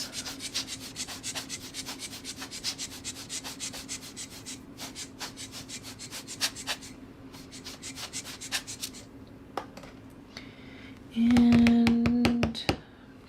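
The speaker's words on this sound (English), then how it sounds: "now I'm going to take the blower tool," A small blower tool drying alcohol ink on rice paper gives a short, loud whirring blast near the end, after a long stretch of rhythmic rubbing and scratching sounds.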